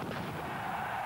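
A firecracker explodes among football supporters at a French cup match between Nice and Bastia, a single loud, broad, continuous blast filling the whole short moment.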